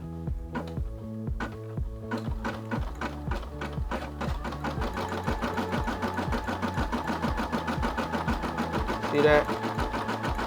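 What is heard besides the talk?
Brother SE600 embroidery machine stitching a turkey design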